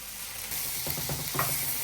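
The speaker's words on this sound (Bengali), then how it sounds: "এখন বেগুনটি ভেজে নিতেছি" Close frying sizzle, a steady crackling hiss of eggplant in hot oil with a few sharper pops and stirring scrapes.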